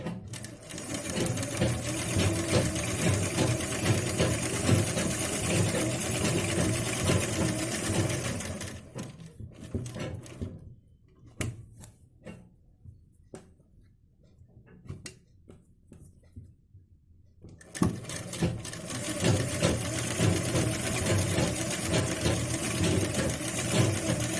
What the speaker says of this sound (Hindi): अब हम अपने नेक पे किनारे किनारे ऐसे सिलाई लगा लेंगे।